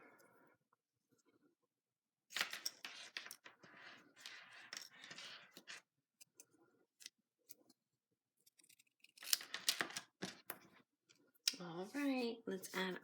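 Scissors cutting card stock for a floral card kit, intermittent snipping and paper rustling in bursts separated by quiet pauses, close and fairly faint.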